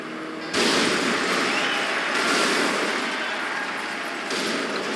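A car crash in the racing game Burnout Revenge: a loud, sustained burst of crunching, roaring impact noise kicks in abruptly after a brief quiet start and keeps going for several seconds with little letup.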